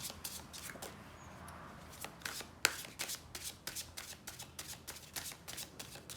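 A tarot deck, the Healing Light Tarot, is shuffled by hand up close, with a steady run of crisp riffling card bursts and soft slaps that quicken toward the end, no voices.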